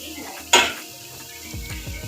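Shrimp added to a pan of potatoes for aloo chingri, with clanking utensil strikes and stirring over a soft kitchen background, one sharp metallic clink standing out amid low sizzling.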